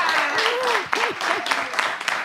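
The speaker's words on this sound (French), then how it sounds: "Merci d'applaudir." Applause from a family audience at a quiz game show, clapping heard under prominent overlapping voices talking and calling out nearby.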